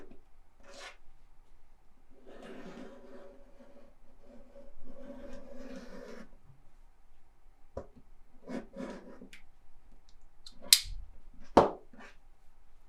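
Scissors cut through folded fabric in quiet, scattered snips and rasping rustles, with a couple of sharper clicks near the end.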